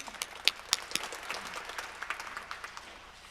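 A congregation at a Korean early-morning revival service applauds in praise, scattered and then fuller clapping from many people at a distance, fairly quiet, with a few sharp individual claps standing out near the start.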